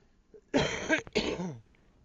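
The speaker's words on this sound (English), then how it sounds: "Trying really hard not to cough in your all's ear." A single muffled cough, close to the microphone, with a short throat-clearing break in the middle, then quiet.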